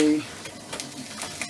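Kofte mixture with tomato puree stirred in a hot pan, soft sizzling with brief scraping strokes of the spoon, close, after a moment of speech.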